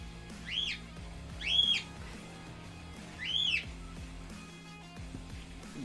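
Three short, bright squawking chirps from a bird nearby, spaced about a second apart, over a steady low indoor hum.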